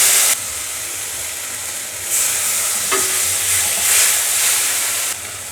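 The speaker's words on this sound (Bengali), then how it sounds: "আমি একটু সামান্য জল দিয়ে মশলাটা কষিয়ে নেব" Spice paste fries with a little water added, giving a steady close hiss and sizzle with brief stirring scrapes, loud and continuous with no talk.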